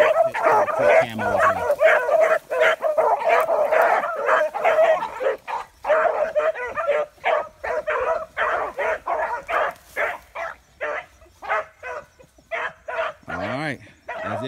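Beagle hounds bark and bay in a steady run of loud, repeated yelps and howls, the calls coming in quick bursts with brief gaps toward the end.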